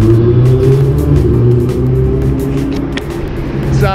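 A Ferrari 488 engine rumbles loudly and steadily nearby, with a deep droning tone and slight shifts in pitch as it idles and revs.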